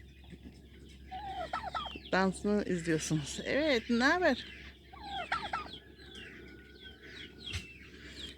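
Turkeys gobble and cluck in loud, warbling bursts close by, several calls overlapping, while someone talks between and over them.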